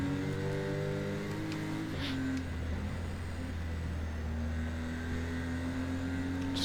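Racing car engines in the Project Motor Racing video game, a race against a Porsche Cayman, drone steadily and fairly close, holding a sustained tone that shifts pitch once, with faint additional engine whine in the background.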